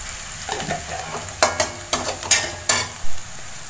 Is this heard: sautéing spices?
yes